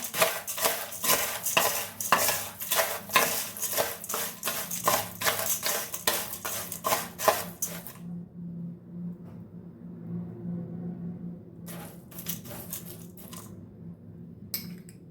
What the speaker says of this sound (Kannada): ಒಂದು ಗ್ಲಾಸ್ ಬೌಲಲ್ಲಿ ಆವಾಗಲೇ ತೊಗೊಂಡಿರೋ ಎಲ್ಲ ಸ್ಪೈಸಸ್ನು ಒಂದಕ್ಕೆ ಹಾಕಿ ಚೆನ್ನಾಗಿ ಮಿಕ್ಸ್ ಮಾಡ್ಕೊಳ್ತೀನಿ